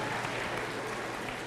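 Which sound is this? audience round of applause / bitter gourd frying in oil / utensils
audience round of applause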